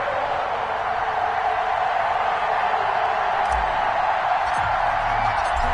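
Stadium crowd in an NFL video game, Chiefs against the Packers, roars in a dense, steady wash of cheering that holds level throughout with no pauses.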